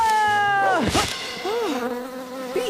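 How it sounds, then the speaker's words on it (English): A high, wavering buzz like bees drones close by, rising and dipping in pitch, while a voice calls out briefly over it. "there's bees in here!"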